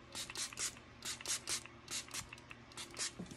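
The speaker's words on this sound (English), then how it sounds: "I spray this down and it just holds better for me personally" Setting spray misted onto a face before bronzer goes on, heard as a quick run of about eight short, soft hissing pump bursts in an otherwise quiet room.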